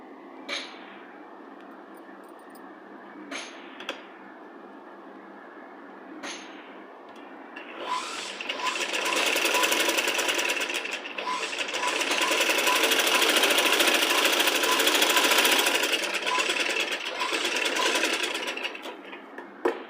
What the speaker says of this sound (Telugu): ఒక్క ఫోల్డింగే చేసి ఇలా కుట్టుకోవాలి.